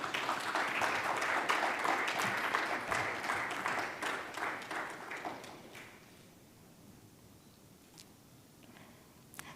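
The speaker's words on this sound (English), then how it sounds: "Can we have a huge round of applause for Mr. Ahmed Darwish?" Conference audience at the Future Banks Summit MENA 2022 gives a round of applause for Ahmed Darwish, a dense burst of clapping that fades after about six seconds into quiet room tone with a few scattered claps.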